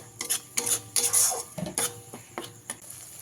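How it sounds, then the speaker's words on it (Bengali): Masala with tomato and sugar being stir-fried in a pan for a pabda fish curry with mustard paste, with repeated scraping and clinking of a spatula against the pan over a soft sizzle, in irregular bursts. "চিনি দিয়ে ভালো করে মিশিয়ে দেবো দিয়ে খুব ভালো করে কষিয়ে নেব"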